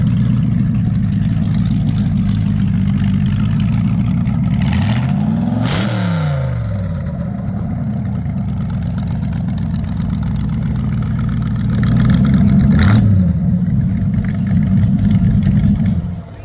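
A rat rod car engine at a spring collector car flea market idles with a steady low rumble, then revs sharply twice, the bursts loud and nearby.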